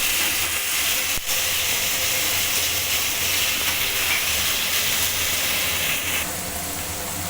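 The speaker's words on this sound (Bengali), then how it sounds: "চিংড়ি মাছের মাথাগুলো এবার কড়াইতে দিয়ে ভালো করে ভেজে দেবো" Prawn heads fry in hot oil in a wok, giving a loud, dense, continuous hiss with a single sharp knock early on.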